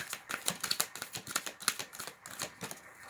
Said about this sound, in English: Okay, so I'm just shuffling my cards.